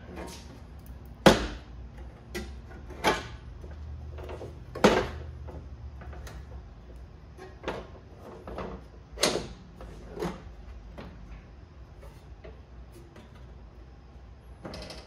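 A folding table's metal mechanism is unlatched and lowered, giving a series of sharp clunks and clicks spaced a second or two apart, with faint creaks between them.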